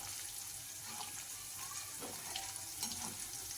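Tempering for poha chiwda frying in a pan, a steady low sizzle with faint watery crackles throughout, quiet and even, with no talking over it.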